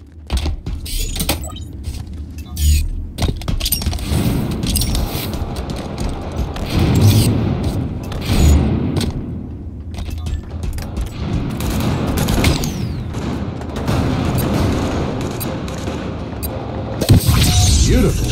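Sniper rifle gunfire during a close team slayer match on the Argyle map in Halo, with loud cracking shots and booming impacts in busy bursts over dense game noise, plus a voice announcing.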